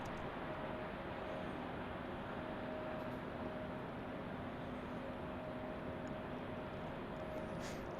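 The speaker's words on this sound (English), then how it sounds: "A220 arriving on runway 35" An Airbus A220 airliner arrives on runway 35 at Salt Lake City airport. A distant, steady engine roar with a faint tonal whine hums on at low level throughout.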